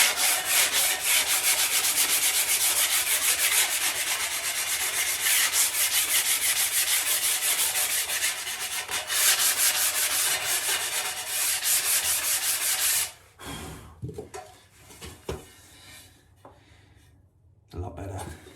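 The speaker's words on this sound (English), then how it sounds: "This little thing is just the 60 grit diamond hand pad, which I use for the rough edges" Tile edges are worked with a 60 grit diamond hand pad, giving a loud, steady, rapid rubbing scrape for about thirteen seconds, then several short, quieter strokes with pauses between them.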